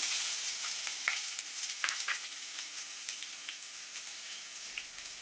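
Almonds, chopped onion and green chili fry in a pan with a continuous hissing sizzle, broken by small ticks and taps as they are stirred.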